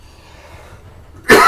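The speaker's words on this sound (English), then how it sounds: "Please excuse me for coughing." One sharp, loud cough bursts out close by near the end, after a second or so of near silence.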